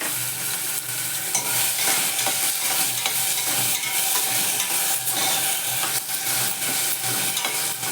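Potatoes sautéing and being stirred in a hot pan for bhagar khichdi, giving a steady close sizzle with scraping stirs throughout and no talking.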